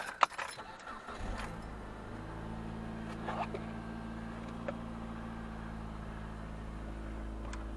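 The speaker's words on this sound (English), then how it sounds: "I'm going to start it up" A 2010 Jeep Patriot with an intake runner circuit fault starts up: keys jangle, then a short crank turns into a steady, close idle hum that holds to the end, with light clicks and knocks over it.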